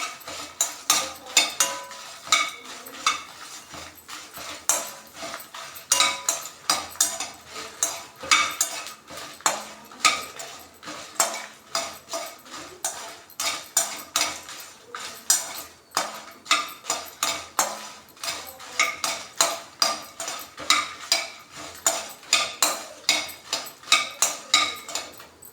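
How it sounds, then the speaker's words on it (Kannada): Cumin and fenugreek seeds fry in a pan for a fish curry while a metal spoon scrapes and clatters briskly against it, loud, rapid and nearly continuous, with only a faint sizzle beneath. "ಜೀರಿಗೆ ಅರ್ಧ ಸ್ಪೂನು, ಮೆಂತ್ಯ ಅರ್ಧ ಸ್ಪೂನ್ ಹಾಕ್ಕೊಳ್ಳಿ. ಹಾಕ್ಕೊಂಡು ಮತ್ತೆ ಫ್ರೈ ಮಾಡ್ಕೊಳ್ಳಿ"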